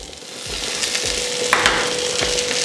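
Cooked green gram and grated coconut stirred in a pan, a soft sizzle under rhythmic scraping strokes of a spoon, with a steady faint hum in the background.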